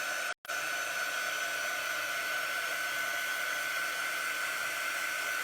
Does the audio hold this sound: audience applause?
no